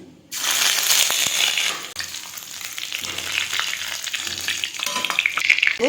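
Nigella seeds and chopped ginger hit hot oil for a fish curry, bursting into a sudden loud sizzle that settles into steady crackling frying with occasional stirring, close up and without speech.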